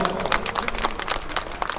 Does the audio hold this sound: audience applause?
yes